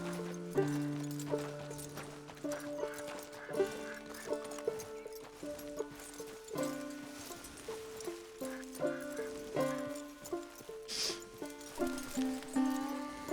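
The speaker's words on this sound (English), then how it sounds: "I like how Arthur talks to horses like I talk to babies and dogs" Steady clip-clop of horse hooves trotting along beneath a soft musical score in the video game Red Dead Redemption 2, with no talking.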